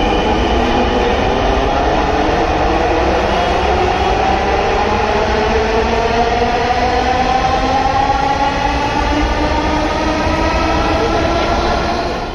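Inside a Dhaka metro train travelling from Mirpur to Karwan Bazar, a loud, continuous rumble and roar of the running train fills the car, with rising motor whine tones layered over the steady rail noise.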